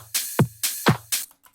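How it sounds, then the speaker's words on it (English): Short pattern of drum hits, kick thumps alternating with bright sizzling open hi-hat washes, loud and close in a brief groove. "I think there's one more open hi-hat that comes in over here,"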